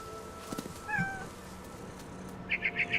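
A cat meows in the video game What Remains of Edith Finch, with one short meow near the start followed by a quick run of four high chirping calls, faint against a quiet game backdrop.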